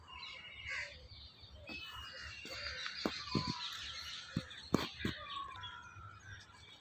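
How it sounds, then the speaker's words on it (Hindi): Birds call and chirp repeatedly in a heritage garden nursery in Delhi at evening, a busy layered chorus of moderately near calls with a few sharper honk-like notes, peacocks among them, and no clear talk. "यहाँ पे सिर्फ और सिर्फ चिड़ियों की आवाज़ सुनाई देगी"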